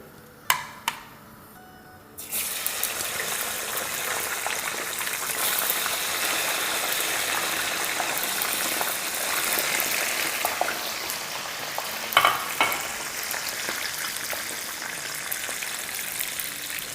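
Second batch of chicken fries dropped into hot oil, a couple of sharp clicks and plops before a steady, dense bubbling sizzle takes over and continues at an even level with occasional crackles.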